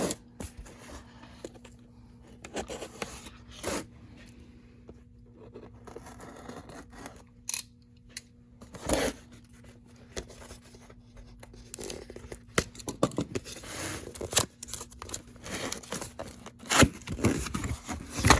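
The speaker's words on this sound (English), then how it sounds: "Trusty box cutter here." A box cutter slices open the cardboard box of a cheap eBay mechanical keyboard, giving close, irregular scraping cuts, crinkles and tearing sounds with short pauses, and no one speaking.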